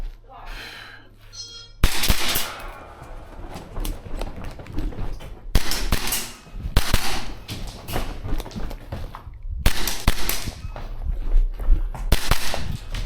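A Tokyo Marui HK45 gas blowback airsoft pistol fires in bursts on a shooting course, sharp snapping shots with clacking slide action in quick irregular strings, broken by short pauses and a voice speaking in between.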